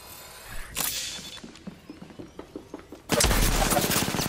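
Rapid gunfire strikes the player in a video game, first in separate popping shots and then in a loud, dense burst near the end.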